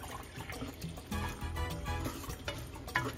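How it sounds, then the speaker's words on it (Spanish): Water from small cups poured into a pot for Puerto Rican arroz apastelado with pigeon peas, a steady trickling and splashing pour with a few louder bursts, heard alone without talk. "Aquí tengo 2 tacitas más de agua. Se las voy a echar todas."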